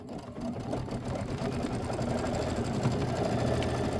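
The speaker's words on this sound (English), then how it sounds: "And we're going to go ahead and let it stitch out." A sewing machine stitches out an embroidery design on a clear blue tile project, running in a steady, fast mechanical chatter with a constant rhythm, close and continuous throughout.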